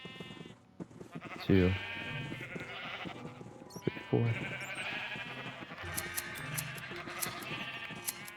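Blue sheep in the Minecraft video game, giving several distinct bleats at irregular intervals over other game sounds, with a person talking throughout.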